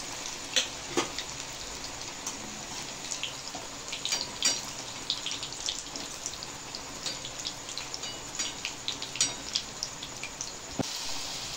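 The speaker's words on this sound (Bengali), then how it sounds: "আমি বেগুনিগুলো তেলের মধ্যে, তেল গরম হয়ে গেছে, একে একে আমি এইভাবে কম আঁচে ভেজে নেব।" Bengali dal beguni, eggplant fritters in batter, frying one by one in hot oil over a low flame: a steady crackling sizzle scattered with sharp pops, close up and with no one talking.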